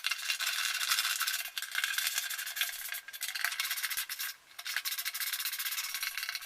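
Nuts on a go-kart shifter cable mount are tightened with a hand tool, producing a close, continuous rasping and scraping sound with short pauses and slight rattles, and no talking.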